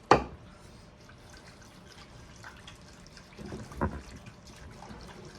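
Hot water pours and splashes into a bowl nearby, a soft continuous stream with a couple of sharper splashes, no voices.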